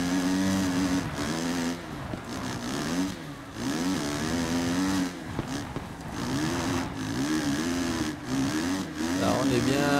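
A motocross bike engine in MXGP3 with a manual gearbox at the Talavera de la Reina GP, revving and dropping repeatedly as gears change, under steady talk.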